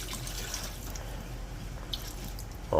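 Water poured into a pot of lechon paksiw, Filipino braised roast pork, as a soft low trickle and drip running quietly through the whole stretch, with a brief louder clatter at the very end.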